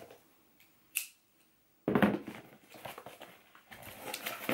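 Scissors snip and cut through parcel packaging, a sharp click followed by a run of rough crunching cuts and rustling, close and fairly quiet, with no talking.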